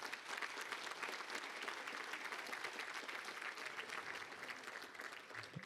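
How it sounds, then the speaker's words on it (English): Applause at a National Honor Society and Hall of Fame ceremony: a quiet, steady patter of many hands clapping from an audience in a hall, continuing evenly for several seconds. "so please a quick round of applause for both groups."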